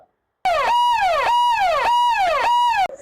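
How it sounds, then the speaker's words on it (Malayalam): An ambulance siren in yelp mode sounds loud and close, rising and falling rapidly in about four repeated sweeps after a brief silence, with no other sound. "ഈ സൈറനാണ് കേൾക്കുന്നതെങ്കിൽ ആംബുലൻസിൽ രോഗിയുണ്ട് എന്നാണ് അർത്ഥം."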